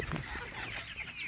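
Egg-laying hens in a poultry shed keep up a steady, busy clucking with short overlapping calls, heard at moderate distance with some faint background noise.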